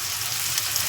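Boiled white chickpeas sizzling as they are sautéed in a pan, a steady close hiss of frying with light crackles throughout a brief moment.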